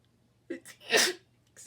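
A person sneezes once, close and loud, with a short sharp inhale just before the burst and a brief breathy sound after it.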